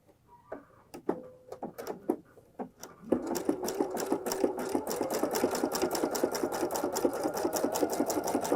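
A sewing machine stitches fold-over elastic binding along curves, starting with a few slow, separate needle strokes before settling into a fast, steady, rhythmic chatter close by.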